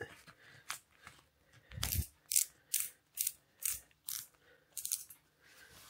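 A ratchet dial on Cade safety shoes is turned to tighten them, giving a series of crisp, close clicking bursts that repeat in a steady rhythm with short pauses between turns.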